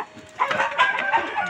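Chickens cluck and squawk continuously in a busy, noisy yard, with a rooster's drawn-out crow rising among them.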